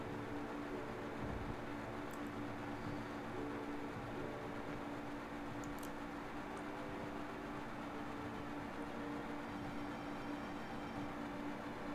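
A train in the Final Fantasy VII video game rumbles along steadily, a constant low rolling roar with faint rattling and occasional metallic clinks, no talking.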